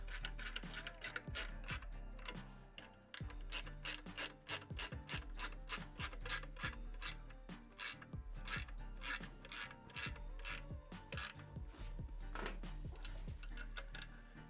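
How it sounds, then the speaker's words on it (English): Half-inch ratchet wrench tightening exhaust T-bolts with nylock nuts while fitting a 2-into-1 exhaust on a Harley-Davidson, heard as rapid, close, repeated clicking ratchet strokes in steady bursts with no talking. "Ratchet wrench on the back too"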